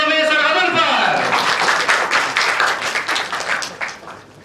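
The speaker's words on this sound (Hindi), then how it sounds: "बहुत सारी तालियों में सर गज़नफ़र।" Audience applause breaks out for Sir Ghazanfar at a university mushaira poetry recital, loud and steady for several seconds right after a brief voice at the start.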